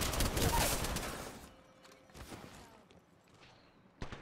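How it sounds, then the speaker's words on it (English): Heavy artillery in a video game opens with a loud, rumbling barrage of blasts that fades into scattered thuds and quieter rumbles, with another sharp hit at the end. "Heavy artillery."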